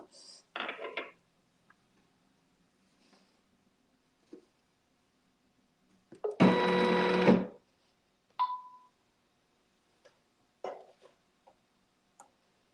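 A home sewing machine stitches thread in one brief, loud mechanical burst of about a second, surrounded by quiet scattered clicks and handling sounds in an otherwise hushed room.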